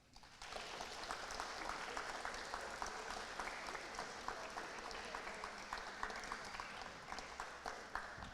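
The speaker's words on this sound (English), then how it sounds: "let's give a round of applause to the parents" Audience applause for students' parents at a school inquiry team celebration of excellence, steady dense clapping from a sizable crowd that holds evenly for about eight seconds after a brief quiet start.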